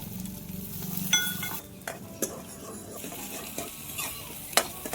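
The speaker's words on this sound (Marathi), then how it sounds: "त्याच्यात आता कांदा टाकून घेऊ. चांगला आता फिरून देऊ त्याले आपण." Chopped onion sizzling in hot oil with mustard seeds and cumin in a kadhai, stirred with a metal spoon that scrapes and clinks against the pan in several sharp knocks over a steady frying hiss.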